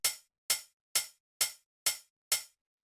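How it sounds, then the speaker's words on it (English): Six crisp, bright hi-hat hits from a Roland TR-909 drum machine, evenly spaced about half a second apart, each with a short metallic decay, played alone. "So the next thing I have here is this 909 hi-hat"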